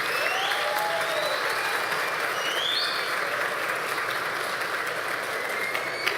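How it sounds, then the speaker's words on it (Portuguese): Audience at a formal legislative chamber session honoring Spiritist Day gives steady, dense applause for Mr. Newton, an even wash of clapping throughout. "Uma salva de palmas para o seu Newton."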